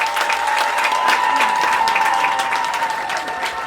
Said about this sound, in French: Je vous prie d'applaudir très fort, Excellence Dr Paul Bindou Moussambali.